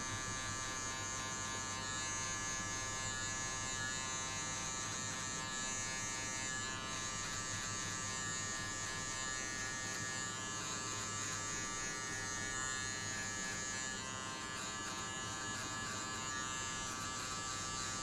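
Electric hair clippers run steadily and close while cutting a child's hair during a taper haircut, a continuous buzzing hum with no pauses and no talking.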